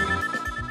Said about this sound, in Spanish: ¡Oh, el teléfono!